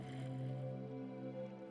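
Swimming upward through water in Minecraft, a soft watery sloshing with a sustained tonal hum underneath, brief and fairly quiet with no speech.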